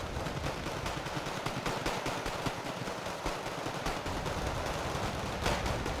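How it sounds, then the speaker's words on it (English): Dense, continuous machine gun fire in the Wargame Red Dragon strategy game, rapid overlapping bursts layered with distant gunfire and explosions, loud and unbroken for the whole stretch. "As you can see, 3 machine guns do a lot of damage."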